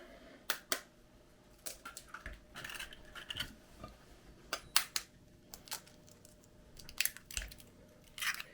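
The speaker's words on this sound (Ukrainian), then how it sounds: "І тепер два яйця. Я розіб'ю в чашу міксера." Two eggs cracked into a mixer bowl while baking a quick cherry pie: sharp close taps and clinks on the bowl rim, with soft shell crunches and kitchen handling noise between them.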